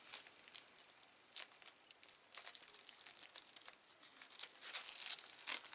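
Tissue paper wrapping on happy mail is torn and crinkled in irregular soft bursts, quiet and close, growing busier toward the end.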